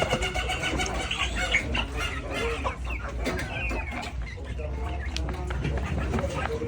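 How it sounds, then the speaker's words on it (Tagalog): Backyard pet chickens cluck steadily at feeding time, several birds close by making overlapping calls over a continuous low rumble, with a voice speaking now and then. "ngayon ay magpapakain na naman tayo sa ating mga lagang manok"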